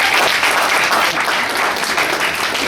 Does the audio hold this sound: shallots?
no